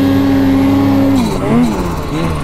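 A snowmobile engine held at high, steady revs at close range, then dipping and wavering in pitch before climbing again.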